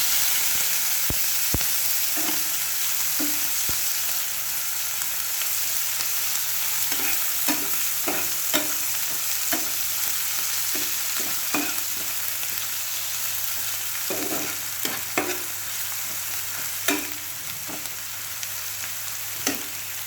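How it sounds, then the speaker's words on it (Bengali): Dried fish with onion, garlic and chili frying in oil, a constant bright sizzle filling the whole span, broken by irregular scrapes and taps of a spoon stirring against the pan, close and without talk. "এখন হচ্ছে আমি নাড়াচাড়া দিয়ে দেবো"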